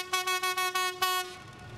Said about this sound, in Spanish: El tren pasó por la Tacunga y se aproxima a Salcedo